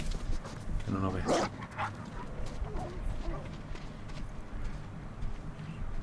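Horse hooves clop as the horse approaches in the Ghost of Tsushima video game, partly masked by someone talking over the gameplay.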